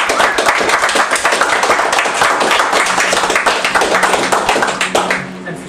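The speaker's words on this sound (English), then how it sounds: "we could give a round of applause for Tranquilite" A live crowd claps steadily at a speedrunning marathon after a Super Metroid 100% race, dense applause filling the whole stretch before tapering off near the end, with voices faintly mixed in.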